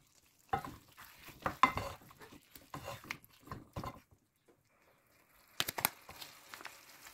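Scattered clattering of a utensil against a pan while Indian chicken curry is stirred and fried, a few brief bursts of scraping and faint sizzle separated by near-silent pauses.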